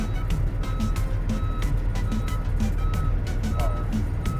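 A truck's reversing alarm beeps steadily at a regular pace at a loading dock, repeated tones over the low rumble of an idling engine.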